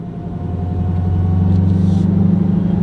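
Supercharged 1000 hp Dodge Hellcat with a Legmaker intake, driving at low revs around 1,500 rpm: a loud, steady engine rumble swells gradually, with a thin supercharger whine running above it.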